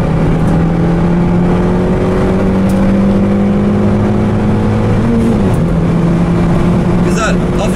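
A Renault Megane RS accelerates hard at full throttle on the Istanbul Park race track, its engine note climbing steadily loud and close, with a brief dip as the gear changes around the five-second mark.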